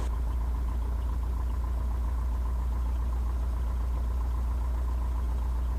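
A light aircraft engine idles on the ground before takeoff, giving a steady low drone with a faint, even rhythmic throb that stays constant throughout, with no talk over it.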